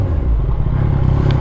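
Superbike engine during a night ride, a steady loud low rumble from close by, droning continuously with slight fluctuations and no voices.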